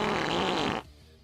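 A long, loud, rasping belch rumbles steadily for about a second close to the microphone, then cuts off abruptly and leaves faint background hiss.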